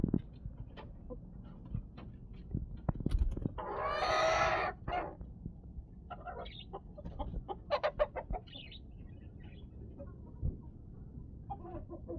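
Country hens clucking nearby in short bursts on a rooftop terrace, with one louder drawn-out squawk, over a low outdoor background.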